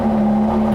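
A V6 car engine runs right after starting, a loud close steady drone with a strong constant tone and no speech over it.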